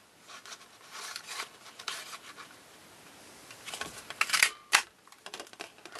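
Scissors snip through red paper while a small Santa breastplate piece is cut out for a Christmas Eve penguin card, giving a series of crisp close cuts and rustles that grow sharper and louder toward the end.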